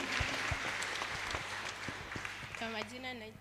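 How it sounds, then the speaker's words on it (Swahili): Church congregation applauding during a Kikuyu service at PCEA Membley Parish: a steady, fairly loud wash of clapping that runs throughout, with a voice starting to speak over it near the end. "Situpigie makofi mazuri"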